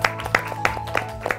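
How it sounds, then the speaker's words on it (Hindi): A small group claps in several short bursts at a children's Eid special, each burst brief and fairly close, with no talk over it. "वाओ तालियां भाई।"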